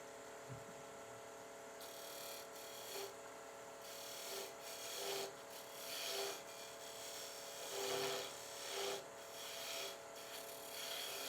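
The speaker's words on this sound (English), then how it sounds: "I'm going to try it with a peeling cut" A gouge takes a peeling cut on wood spinning on a lathe while a back scratcher is turned, giving faint, close scraping rasps that come in short repeated bursts over a steady motor hum.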